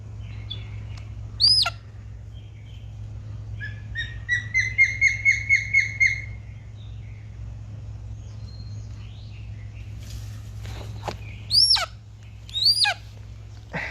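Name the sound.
imprinted hawk screaming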